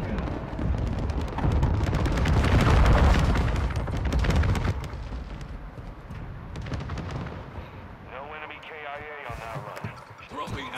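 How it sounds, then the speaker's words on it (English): An airstrike bombing run in Modern Warfare 2 hits danger close, rumbling as a loud, deep wash of blasts that slowly fades, with a voice speaking under it and again near the end. "Bombing run is inbound. Danger close."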